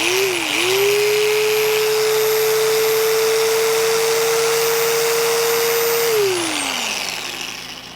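A Bauer belt sander from Harbor Freight powers up with a rising whine, runs at a loud, steady electric drone for several seconds, then winds down as it is switched off.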